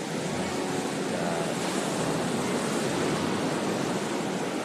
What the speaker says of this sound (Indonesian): Memang terkenal kan ombaknya yang cukup besar ya.